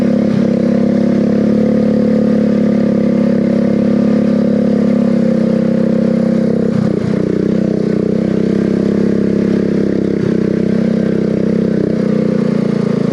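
Loud, steady engine drone of a mud mower fitted with ATV tires, driving through light snow, holding a constant rumble with brief dips and bumps along the way.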